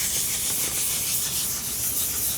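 Steady wet rubbing of 1000 grit sandpaper across a plastic headlight lens under firm hand pressure, a continuous hiss-like scrubbing held close and even throughout with no talking.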